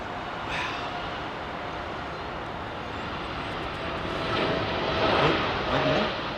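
A Qatar Airways airliner on its takeoff run at London, a broad jet-engine roar that builds steadily and peaks toward the end, heard from a distance and fairly faint.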